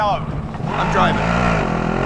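A vehicle engine drones steadily during driving in the video game Warzone, a continuous low rumble with a rising revving layer, loud and close, while a voice talks over it.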